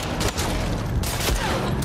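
Rapid gunfire in The Last of Us Part 2 bursts out in a dense, loud volley lasting about two seconds.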